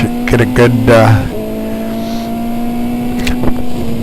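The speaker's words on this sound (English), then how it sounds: "go down into first gear" Formula 2.0 race car on a track, its engine blipping sharply several times in quick succession while downshifting into first gear, then settling to a steady high drone with one more brief blip near the end.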